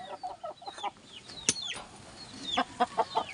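Clucking and calls from a Sweater Pumpkin gamefowl chicken, a breeding bird, come in short bursts. A sharp broadband rustle like wing flapping or movement cuts in midway, and a few clear clucks follow close by.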